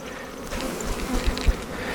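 Honeybees buzz steadily around a hive frame being shaken during a May hive inspection, a continuous close drone with a few louder passes near the end.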